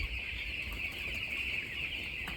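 Broiler chickens in a poultry shed make a constant crowded murmur of clucks and chirps, with soft wing flutters mixed in, steady and close.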